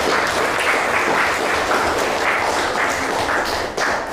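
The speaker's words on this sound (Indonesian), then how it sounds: "Beri aplaus dulu untuk kelompok 3." Dense, steady applause from a classroom of students for a presenting group, many hands clapping together close by at an even loudness for the whole stretch, with no voices over it.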